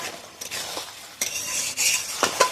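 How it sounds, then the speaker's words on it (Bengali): Chicken pieces are stirred and sautéed in a pan for chicken malai curry. Several scraping stirring strokes with utensil clatter sit over a low frying sizzle, close by and with no talking. "মাংসটা একটু হালকা করে কষিয়ে নেব"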